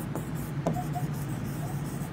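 Marker or chalk scratching on a board during a biology lesson, a few short strokes close by over a steady background hum, with no speech.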